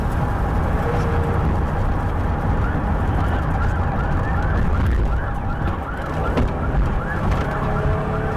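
A police car siren wails continuously during a high-speed pursuit, loud and close with rising and falling sweeps over heavy engine and road roar, with no voices.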